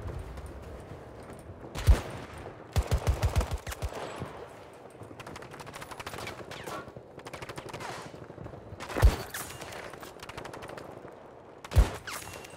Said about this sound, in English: Who's shooting me then?